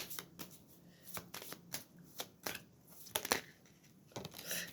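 Cards handled and drawn from a deck during a tarot-style reading, a quick series of crisp shuffling flicks and soft slides close by, with no voice over them.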